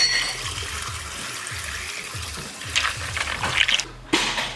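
Cold water pours and splashes steadily into a plastic tray, a broad hissing wash with a few brighter splashes near the end, close by and with no talking.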